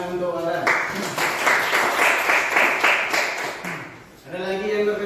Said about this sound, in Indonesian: tepuk tangan untuk orang.